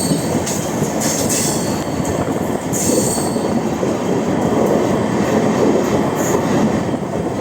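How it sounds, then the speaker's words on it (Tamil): An Amrit Bharat Express inaugural special train runs on the rails, bound toward Tambaram on the Trivandrum route, with a loud, steady rumble and rattle of carriages and wheels, brief squeals and hisses breaking through near the start and middle. "இனாக்ரேஷன் ஸ்பெஷல் ட்ரெயினில் நம்ம அப்படியே தாம்பரத்தை நோக்கி நம்ம ஜேர்னியை ஸ்டார்ட் பண்ணி போக வேண்டியது தான்"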